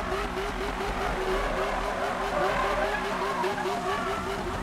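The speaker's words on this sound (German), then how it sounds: "Haben wir jetzt einen Donut, vielleicht schaffen wir es ja diesmal." In Need for Speed 2015, a car's engine drones steadily and loudly throughout while it spins donuts, with a wavering tonal pitch and a rough, continuous texture.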